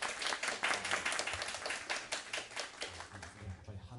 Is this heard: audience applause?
yes